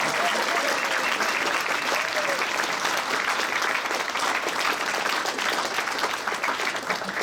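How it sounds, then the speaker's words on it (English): A jazz party audience at Whitley Bay applauds a vocalist after a classic jazz set, with loud, sustained clapping from a large crowd and a few voices mixed in throughout. "But again, have another round of applause for Nicolle Rochelle, on vocal with Cleo Brown."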